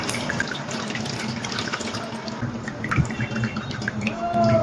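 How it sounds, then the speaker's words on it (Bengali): Warm water poured into sour yogurt in a bowl for jalebi batter: a steady, close trickle and splash of liquid, continuous for a few seconds with light drips near the end. "আর জলটা কিন্তু আমি উষ্ণ উষ্ণ গরম জল নিয়েছি, খুব সামান্য একটু জল দিয়ে দিচ্ছি"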